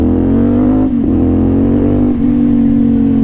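A CFMOTO 450NK motorcycle fitted with an Orion exhaust revs close and loud, a deep throbbing drone that dips twice as the throttle blips and recovers, with no talk over it.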